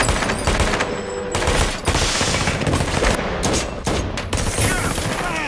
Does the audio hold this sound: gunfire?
yes